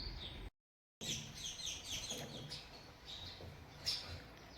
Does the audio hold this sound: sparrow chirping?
yes